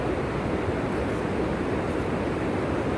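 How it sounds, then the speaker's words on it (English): Steady, loud wash of water and surf from a video game's Salachia area, a continuous broadband roar with no distinct breaks, like waves rolling in close by. "in Salachia the water is a little bit louder"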